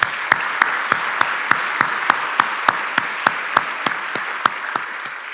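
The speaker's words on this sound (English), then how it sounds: "Let's give our volunteers another round of applause." An audience at a 2024 State of the County address claps for county volunteers in a steady, rhythmic unison beat of sharp, evenly spaced claps that carries on for several seconds.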